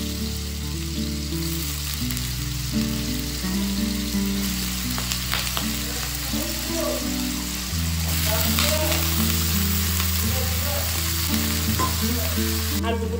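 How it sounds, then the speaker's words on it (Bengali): Potatoes fry in oil in a wok with a constant close sizzle and crackle, broken by occasional stirring scrapes, while a low hum drones underneath. "আলু মোটামুটি ভাজি হয়ে গেছে"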